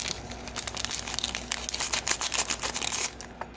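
Plastic hop and yeast bags for home brewing crinkle and rustle in quick, irregular bursts as they are wiped clean, close and continuous, with no voices.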